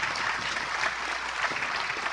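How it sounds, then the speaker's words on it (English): Steady crowd applause at the opening of a global biodiversity alliance summit, a dense, even patter of many hands clapping that holds throughout without voices. "I think we should give her a huge round of applause"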